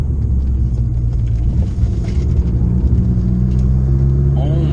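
A modified Abarth engine rumbles loudly while the car corners hard, a steady low drone from inside the cabin with a person talking over it.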